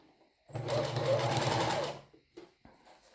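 A sewing machine whirs for a moment while backstitching the start of a seam on a swimmer-style bra. One close burst about a second and a half long is followed by faint handling clicks.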